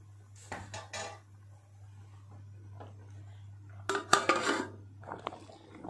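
A metal lid clatters and clinks onto a pot of simmering Mangalore-style mackerel fish curry, with a few close, sharp knocks of cookware near the end and a low steady hum underneath.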